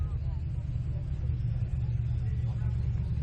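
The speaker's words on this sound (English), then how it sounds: "the hot rod's just coming back" A hot rod engine at a tractor show at Newby Hall gives a steady, deep rumble that stays even and close throughout, with no clear rise or fade as it goes by.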